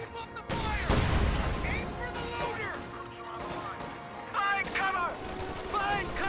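MG34 machine gun bursts in a Company of Heroes battle, mixed with dense gunfire, explosions and clanking, while game soldiers shout over the din.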